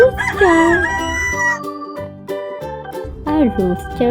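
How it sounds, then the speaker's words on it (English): A rooster crows a loud, drawn-out cock-a-doodle-doo, then calls again more briefly, over a cheerful music bed. "A rooster say cock-a-doodle-doo."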